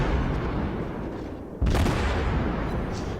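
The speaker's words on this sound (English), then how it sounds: "we're just trying to get some blind shots in" Naval guns on the heavy cruiser Furutaka in World of Warships fire a salvo, heard as one sharp, loud boom midway through a continuous, dense roar of battle noise.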